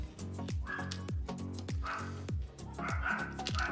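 Dogs bark in a series of sharp, fairly close yips and woofs, about seven in a loose irregular rhythm, with some overlapping calls and no talking.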